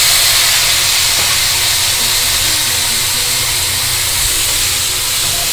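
Chopped tomatoes hit a hot pan of oil seasoned with turmeric and asafoetida while making tomato thokku, giving a steady, loud, close hiss and sizzle that holds evenly throughout with no talking.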